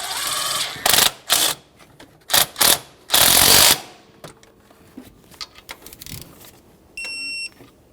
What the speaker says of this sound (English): We'll snug it up and then we can torque that to 37 foot-pounds.